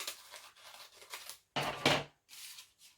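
Scissors snipping paper into quarters at close range, a series of short crisp cuts with one louder, sharper slice in the middle and brief rustling between them.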